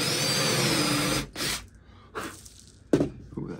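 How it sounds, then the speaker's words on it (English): A power drill with a 3/8 inch bit bores a hole, whirring loudly and steadily for just over a second, then spins up again in three short bursts with quieter gaps between. "Ooh, that drill's fast."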